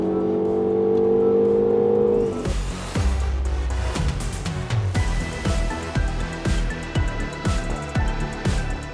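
A Mini Cooper S on a race track holds a steady engine drone for a couple of seconds, then is caught by a run of quick upshifts and revs, each gear rising and dropping in close succession, loud and near.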